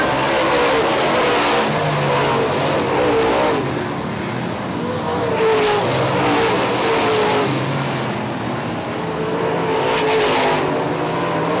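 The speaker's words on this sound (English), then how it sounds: "Charging down the backstretch, half lap left for 64, Ryan Dauber." Late model race cars roar around Hartford Speedway Park during a UMP Summer Nationals race, a loud, continuous engine drone that swells and fades as cars pass, heard from the stands without voices.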